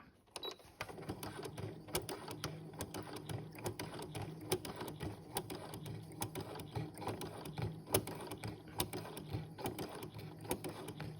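A sewing machine stitches slowly along the outlines of a single feather, with a steady stream of soft mechanical clicks and a low motor hum running continuously and close.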